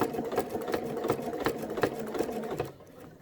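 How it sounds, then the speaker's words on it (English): A sewing machine with a walking foot stitches in the ditch at a 1.8 stitch length, its needle thumping in a fast steady rhythm close by before the motor stops abruptly. "I'm going to start to stitch and I'm going to do the best I can"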